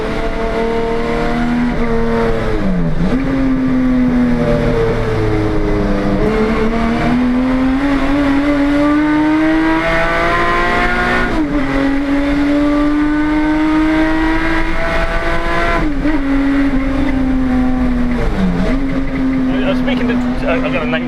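A single-carburettor, 300-horsepower race car engine revs hard and steadily toward 8,000 rpm, its pitch rising and dipping through repeated throttle blips, loud and close throughout.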